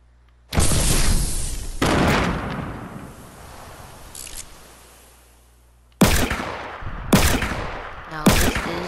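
Hand cannon gunfire in a video game: loud, booming single shots, one near the start and another a second later with a long decaying tail, then three rapid blasts close together near the end.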